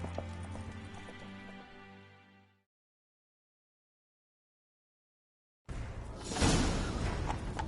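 Horse hooves clatter in a gallop in The Witcher 3, a quick rhythmic clip-clop for about two and a half seconds before a gap of silence, then a louder burst of hoofbeats and rushing movement.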